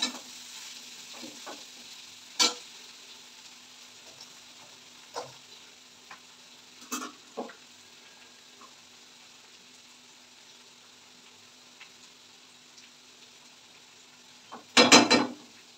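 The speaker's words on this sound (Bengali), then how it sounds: "এবার আবার একটু নেড়ে দিচ্ছি" Pasta being stirred in a pan to keep it from sticking: a quiet, low sizzle with scattered scraping and ticking stirs, then a burst of loud metallic clatter near the end, no voices.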